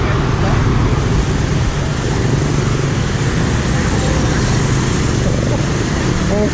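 Loud, dense street traffic in a Vietnamese town roars on without a break, a thick wash of car and motorbike engines passing close by.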